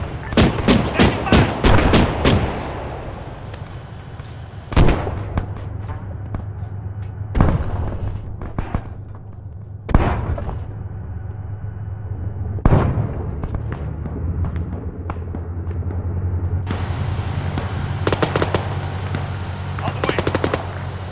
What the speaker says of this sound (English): Just got engaged by a tank, enemy tank.